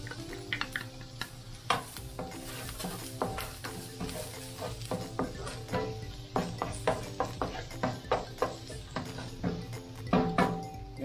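Ginger and garlic sautéing in hot oil in a pan, with a low steady sizzle under repeated clinks and scrapes of a utensil stirring against the pan.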